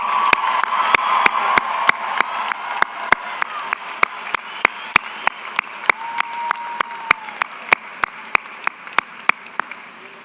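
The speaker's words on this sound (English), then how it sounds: "And graduates, please show your appreciation to them with resounding applause." Graduates and guests at a UCF fall commencement ceremony break into loud, sustained applause, a dense wash of clapping from a large crowd with sharp individual claps standing out.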